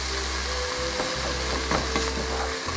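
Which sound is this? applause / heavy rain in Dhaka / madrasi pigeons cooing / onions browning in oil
onions browning in oil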